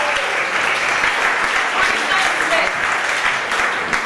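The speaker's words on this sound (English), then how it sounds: "Applaud that poet, please." An audience applauds a poet after judges read out scores at a poetry slam, a dense, steady wash of clapping that holds at full strength for about four seconds.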